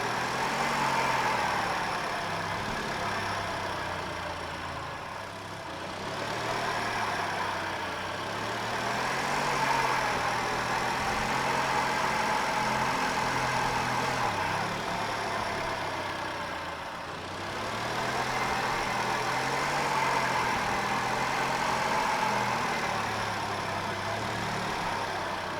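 A car engine idles roughly and steadily in the Car Dealer Simulator game, with a low uneven throb that swells and dips every few seconds and runs alone without talk.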